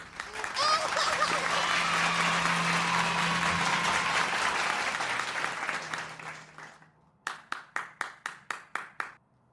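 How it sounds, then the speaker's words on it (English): A crowd's applause and cheering fades out, then one person keeps clapping alone, about eight sharp, evenly spaced claps that ring out in the quiet. "That one last guy that keeps clapping."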